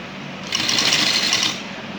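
A sewing machine stitches down a folded cord on a garment neckline, one brief, fast, whirring run of about a second, close and clear, with no talking.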